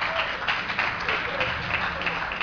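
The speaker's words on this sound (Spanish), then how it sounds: "Un aplauso." Applause from the audience at a university robotics competition, a dense, steady wash of many hands clapping at moderate distance, continuing evenly throughout without pause.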